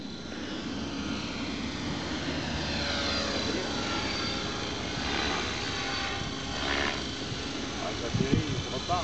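A large quadcopter drone on a test flight flies steadily with a loud, continuous rotor drone and shifting pitch, then comes down to land, while people talk nearby over the noise.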